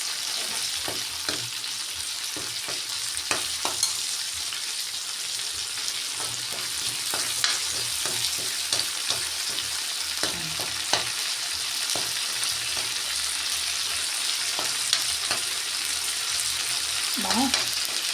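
Ginger, onion and garlic sizzle steadily in hot oil in a pan, a continuous crackling hiss broken by the clatter of stirring, close and moderately loud.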